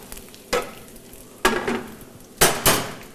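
Food browns and sizzles in a hot pan on a kitchen stove, with a steady frying hiss broken by four sharp scraping clatters of a utensil stirring against the pan.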